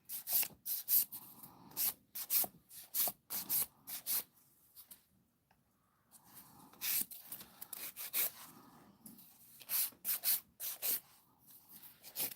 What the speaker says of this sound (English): I actually feel like the hard gel can handle an 80 grit file